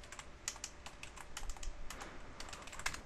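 Close, quiet typing on a computer keyboard while entering commands, with irregular clusters of key clicks and a few sharper taps across a few seconds.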